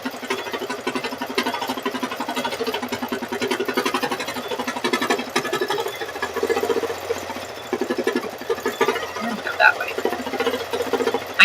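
A home embroidery machine stitches out a design with a steady, rapid mechanical chatter that runs loud and continuous throughout, with a person talking faintly over it.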